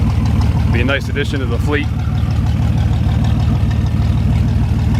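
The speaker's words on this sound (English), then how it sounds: "it's really great to hear this thing run" A 432ci GMC V6 truck engine idles with a steady low rumble while someone speaks briefly over it near the start.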